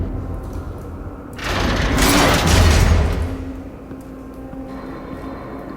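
Canister explosion in a Batman video game crime-scene sequence: a sudden roaring blast with a rumbling, crackling body that swells, peaks and then fades back into steady ambient hum, without any speech.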